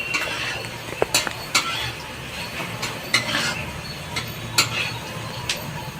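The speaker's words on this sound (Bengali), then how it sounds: "পেঁয়াজটা ভাজা হয়ে গেছে" Onion frying in a pan, stirred with a utensil: a steady low sizzle with several sharp clinks and scrapes of the spoon against the metal, close and fairly quiet, with no talking.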